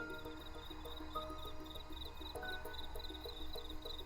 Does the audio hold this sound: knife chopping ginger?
no